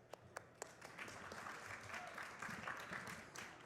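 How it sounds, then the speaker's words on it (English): Applause from a conference audience at BSidesSF 2023, a short, fairly faint round of clapping with a few sharper claps at the start, filling the room for a few seconds. "A quick round of applause."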